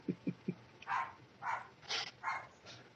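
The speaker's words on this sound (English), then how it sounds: "The dog is really upset" A dog barks in short bursts, three quick yips followed by four louder, drawn-out barks at a steady rhythm, fairly close and alone.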